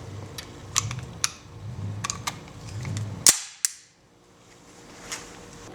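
A gun loaded with wax bullets is fired from the hip, producing a few sharp cracks with mechanical clicks of cycling between them, and one loud report that is followed by quiet.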